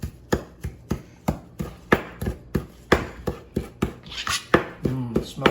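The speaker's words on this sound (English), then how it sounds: "what I forgot to do is to chop these greens, the ginger and" A knife chopping fresh ginger and coriander greens on a cutting board, a rapid series of sharp, close taps at a steady rhythm with a brief clink of metal near the end.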